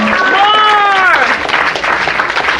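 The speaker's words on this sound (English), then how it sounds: "Stand up and give a man a round of applause" Loud audience applause during a lecture, with a crowd clapping steadily throughout while a voice rises in a drawn-out shout or cheer near the start.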